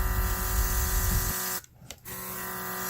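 Cordless airbrush spraying shimmer makeup, giving a steady high-pitched motor whine with a hissing spray, then a sudden drop as it briefly cuts off twice and resumes.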